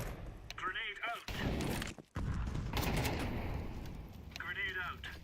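Grenade blast and heavy gunfire in Counter-Strike 2, with thumping, rattling explosions and shooting over a steady noisy background, while a voice talks throughout and a short silent gap falls in the middle.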